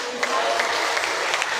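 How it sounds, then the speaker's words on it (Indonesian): An audience at a product soft launch claps in a steady, dense wash of applause that lasts throughout at moderate loudness. "Tepuk tangan dong."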